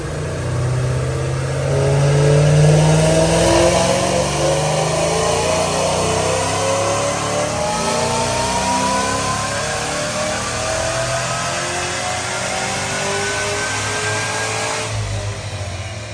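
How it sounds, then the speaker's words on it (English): Supercharged 2005 Mustang with the 3V engine, Edelbrock supercharger and automatic transmission, revs hard through a full pull on a chassis dyno. The loud, steady engine note climbs in pitch and holds close, with no talking. "Check out this dyno pull."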